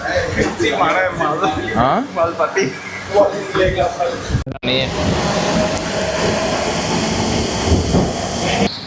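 Kolkata Metro train at Dakshineswar station, heard as a loud, steady underground rumble and hiss that takes over after a stretch of station crowd noise and voices, with continuous rolling noise through the rest.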